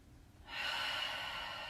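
A slow, steady inhale during a seated desk yoga breathing exercise, starting after a brief quiet moment and holding as a soft, airy breath close to the listener.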